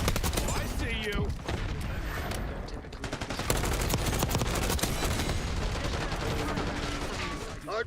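Rapid gunfire in a Call of Duty Black Ops 6 hardpoint multiplayer match, continuous close bursts and rattling shots throughout, with game voice callouts and a player talking over them.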